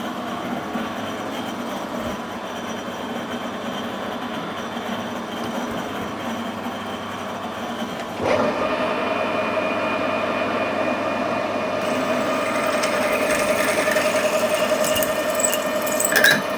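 A 6.8 mm drill works into a snapped M8 bolt held in a miniature Smiths vice, giving a steady whirring grind that shifts to a higher, harsher tone partway through and carries on close and continuous.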